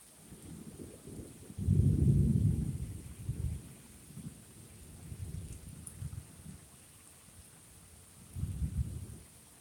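Thunderstorm with thunder and rain: low, distant rumbles of thunder swell and fade in several waves over a steady wash of rain, with no talk.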